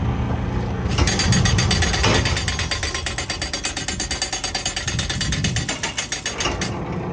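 A mechanical drive mechanism for in-and-out motion rattles steadily up close, a rapid ratcheting clatter of gears and pawls that runs continuously with a fast, even ticking rhythm.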